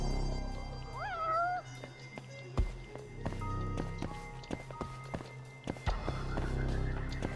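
A cat in the video game Judgment meows twice in rising, wavering cries near the start, set over game ambience, footsteps and assorted clicks and thuds, with no talking.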